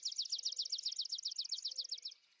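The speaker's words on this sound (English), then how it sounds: "Here, for instance, is a swamp sparrow singing for a mate." A swamp sparrow sings a rapid, even trill of about twenty near-identical notes, close and clear, running steadily for two seconds before stopping abruptly against a quiet background.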